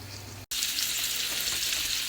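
Steaks searing in garlic butter in a pan give a steady, close, loud sizzle with no one talking. It runs for about two seconds, broken by a brief dropout near the half-second mark.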